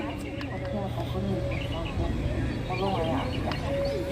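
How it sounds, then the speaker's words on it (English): Recorded wildlife and bird calls on a Disneyland ride play as a busy jungle soundscape of chirps, squawks and animal cries over a steady low rumble, with someone talking throughout. "Hear the sound of all of the wildlife and the birds."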